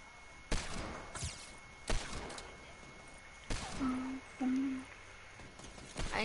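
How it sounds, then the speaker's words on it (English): Sharp gunshots from a Fortnite match crack out in scattered single bursts, loud and close, with a couple of shorter tonal game sounds between them and no talking over the shots. "Somebody's shooting me."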